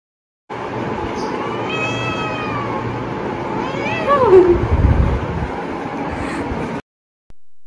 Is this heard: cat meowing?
yes